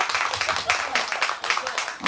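A small audience at a trot singer's live stage show clapping in a quick, steady rhythm, close and fairly loud, with a voice talking over the applause.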